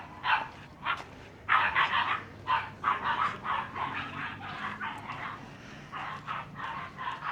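Dogs bark repeatedly in short irregular bursts outdoors at a Bajau sea village in Malaysia, moderately distant, with no speech.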